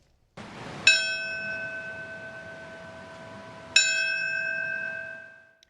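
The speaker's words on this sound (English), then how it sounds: "Bells toll as our nation marks 24 years since the terror attacks" A church bell tolls twice for a September 11 remembrance, several seconds apart, each ringing tone lingering and slowly fading in a quiet setting.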